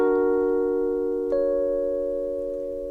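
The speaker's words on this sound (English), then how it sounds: "Augmented triad." An augmented triad is held on an old-style electronic keyboard patch, a sustained steady chord that shifts slightly partway through, playing alone without talk.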